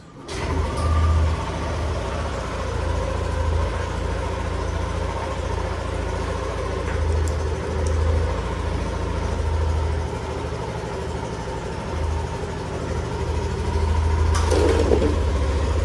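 A 2020 Yamaha NMAX scooter engine sputters to life and settles into a steady, close idle, a low even drone lasting throughout with slight revs near the end.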